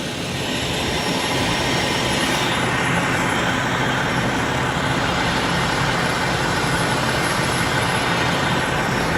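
A firefighting aircraft circles overhead during wildfires in Los Angeles, its engine a loud, unbroken jet roar that holds steady throughout with no talk.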